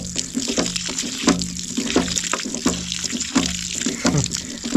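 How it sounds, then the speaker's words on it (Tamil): Water gushes steadily from a homemade borewell pump that runs without electricity, a close, continuous splashing flow with rhythmic surges. "தண்ணி பார்த்தீங்கன்னா சூப்பராக நிறையா வருது பாருங்கள் நண்பர்களே."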